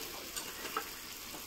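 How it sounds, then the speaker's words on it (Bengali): Fried loitta fish sizzles in oil in a black wok, a soft, steady crackle with faint clicks of a utensil, quiet and alone without speech. "এখন লইটা মাছ ভাজাগুলো দিয়ে দিচ্ছি"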